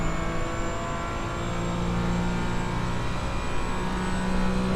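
A racing car engine in the iRacing sim racing game holds a loud, steady high-revving drone with a constant tonal whine, running close and unbroken throughout with no talk.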